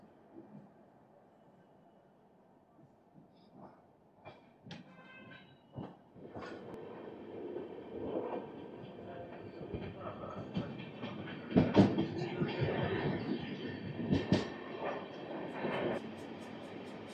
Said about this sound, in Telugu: ఒక 2 minutes హాల్ట్ తర్వాత లోనావాలా స్టేషన్కి అయితే మనం స్టార్ట్ అయిపోయాము